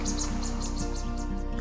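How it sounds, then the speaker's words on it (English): Birds sing in a dense forest on an island, a run of bright repeated chirps and short calls at a quick, regular pace, fairly close and clear over a faint steady background hum, with no talking. "a multitude of birds were dancing and singing"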